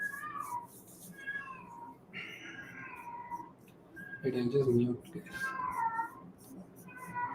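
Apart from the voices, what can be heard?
cat meowing, female cat in heat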